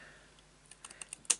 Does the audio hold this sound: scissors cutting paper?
yes